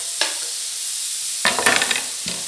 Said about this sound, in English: And then I'm going to let the bacon cook just until it gets a little bit of color and it renders its fat